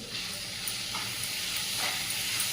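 Kantola (spiny gourd) bhaji sizzles steadily in a pan as it is stirred, with soft spatula scrapes over a close, even hiss and no talking.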